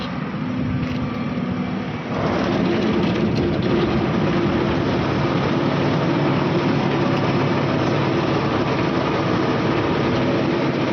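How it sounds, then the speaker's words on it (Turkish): A tractor engine running with a heavy rotovator attached starts at about two seconds and then holds a loud, steady diesel drone close by, with no talk over it. "Şimdi traktörümüz çalışıyor."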